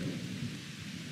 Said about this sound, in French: Ouh, les orages!